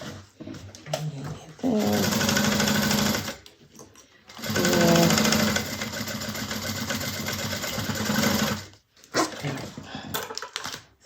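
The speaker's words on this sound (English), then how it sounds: "So now we have it sewn on." A sewing machine stitches a fabric bag in two long loud runs of steady whirring, close by, with short pauses between and a voice talking around it.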